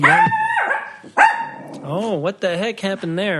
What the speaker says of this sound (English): We're sorry for the loud barking.